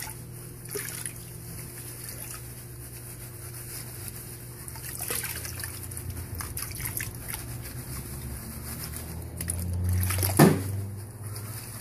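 Water sloshing and trickling in a gold pan as a gravel slurry is worked by hand, a steady low wash with soft drips and a louder splash near the end.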